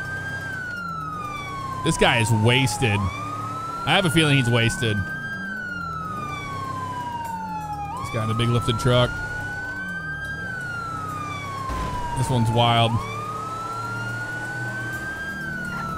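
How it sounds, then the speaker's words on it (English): A police car siren in GTA 5 wails and sweeps in long rising and falling cycles, steady and prominent, while someone talks in short bursts over it and engine noise hums beneath. "We'll turn our siren back on."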